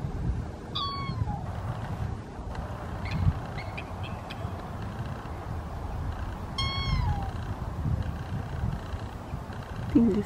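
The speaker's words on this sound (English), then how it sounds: "That's the swans crying." Swans on the Canning River give two short, high bugling cries several seconds apart, moderately near, over a steady outdoor background of wind and ambient noise.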